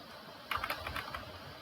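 A short run of keys pressed on a computer keyboard while entering a command in RStudio, several quick crisp taps clustered together after a brief quiet start, close and fairly soft.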